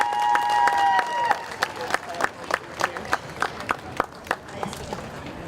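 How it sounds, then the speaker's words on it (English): Crowd applause at an outdoor Disability Pride festival, scattered clapping from a modest group with a voice heard at the start, the claps thinning into separate distinct hand strikes. "Everybody give a round of applause to Judith real quick."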